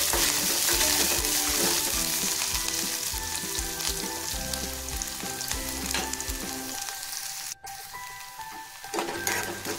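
Chopped onion sizzles steadily in a hot pan for a quick bread-crumb dish, a loud, close, continuous frying hiss with occasional stirring clatter and a brief dip near the end.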